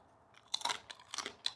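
Plantain chips fried in palm oil being bitten and chewed up close, giving a few sharp crisp crunches in quick bursts with short pauses between them, and no speech.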